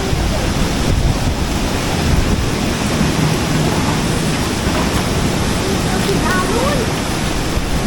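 Strong ocean waves crashing at Boracay beach during rainy, stormy weather, a loud continuous roar of surf mixed with gusting wind, close and constant throughout.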